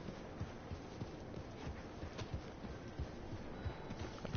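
Horse hooves clip-clopping at a walk in the Red Dead Online video game, a faint, steady rhythm of hoofbeats.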